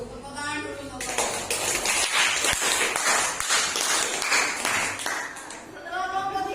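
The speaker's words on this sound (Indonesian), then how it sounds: "Tepuk tangan dulu untuk saya." A classroom audience claps after a group presentation, a burst of many hands lasting several seconds, close and lively, with a voice speaking just before it starts and again as it fades.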